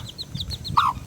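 Chickens cluck in a quick run of short, close calls, with one louder, higher squawk near the end, alone without talk.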